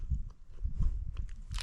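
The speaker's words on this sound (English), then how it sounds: "Eating a protein bar." Someone bites and chews a protein bar on a quick rest stop during a steep hike in search of brown deer sheds, giving close, soft crunching and mastication sounds with faint rustling.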